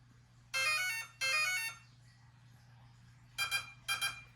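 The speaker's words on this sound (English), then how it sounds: "There's your beeps for connection." Electronic connection beeps from an RC drag car and its transmitter after power-on: two longer tonal chimes, a pause, then two shorter beeps, clear and close over a low steady hum.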